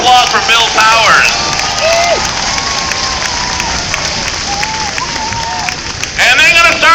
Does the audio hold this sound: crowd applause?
yes